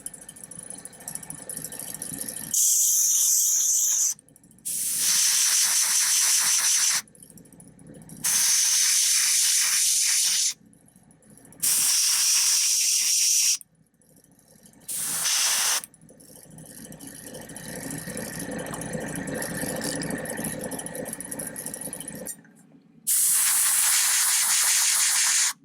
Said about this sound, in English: I'm just really spraying just that immediate area